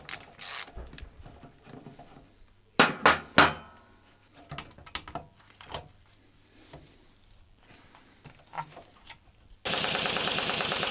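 A pneumatic impact wrench driven by a struggling air compressor, used during the teardown of a cafe racer motorcycle. Scattered bursts of clanking and ratcheting come first, then a loud, sustained rattling hammer runs steadily to the end.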